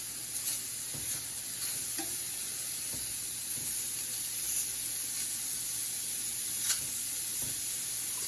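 Bite-sized steak pieces sear in a very hot pan with brown butter, a steady close sizzle and hiss punctuated by soft scrapes and clinks as they are flipped, with no voices over it.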